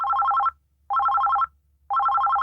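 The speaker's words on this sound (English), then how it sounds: "her phone rang" Telephone ringing in loud, close bursts of rapid electronic trilling, three rings separated by short silences.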